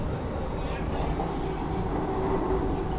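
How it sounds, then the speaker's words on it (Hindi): Chennai–Coimbatore Intercity express train running past at about 130 km/h, a steady loud rumble of wheels and carriages with a broad continuous roar throughout, heard from an onboard Vande Bharat. "ये देखिए चेन्नई कोयम्बटूर इंटरसिटी"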